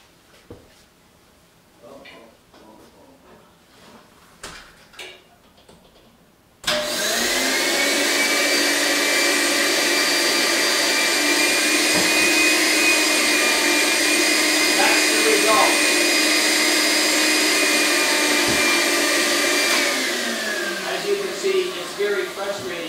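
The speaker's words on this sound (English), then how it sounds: "Then I tried to vacuum it." A vacuum cleaner works on a dusty pocketed filter from a woodturning shop's dust collector. A few quiet handling clicks come first, then the vacuum switches on with a loud, steady whine that holds for about thirteen seconds before winding down.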